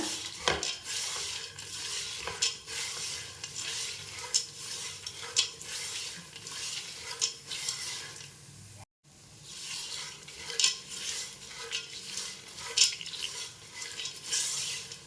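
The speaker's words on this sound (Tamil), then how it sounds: "மஞ்சள் லேட்டாக போட்டனால கொஞ்ச நேரம் அதை வறுத்துக்கிறேன்" A snack mixture with turmeric powder is stirred in a pan, with a soft ongoing sizzle, repeated scraping and clinks of a spoon against the metal, and one brief silent gap; fairly quiet and close, no voices.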